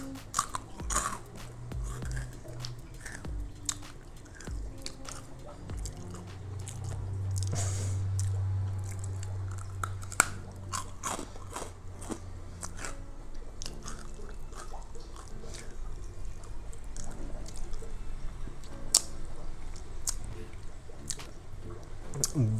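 Close, wet chewing and crunching of a traditional Colombian coconut candy, repeated bites and squishy mastication continuing steadily with faint background noise and no speech.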